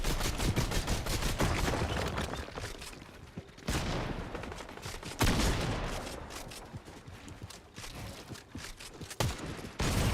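Dense, rapid gunfire from a hunting rifle in a video game rolls on almost without a break, with brief lulls near the middle and a sharp burst midway; no one speaks.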